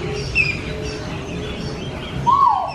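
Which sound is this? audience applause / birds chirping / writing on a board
birds chirping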